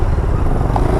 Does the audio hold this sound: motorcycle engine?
yes